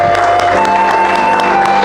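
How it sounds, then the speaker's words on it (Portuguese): A church congregation applauds during a worship service, a dense, steady wash of clapping with a sustained tone underneath throughout. "Para o Senhor Jesus uma linda salva de palmas"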